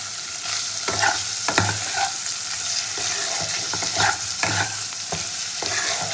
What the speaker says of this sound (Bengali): হালকা হাতে একটু ভেজে নেব, জাস্ট একটু এপিট ওপিট করে নিতে হবে।